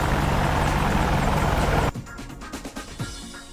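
Mi-8 helicopter in the DCS World video game, a loud dense rotor and engine roar that abruptly drops out, leaving faint scattered thumps and low rumble.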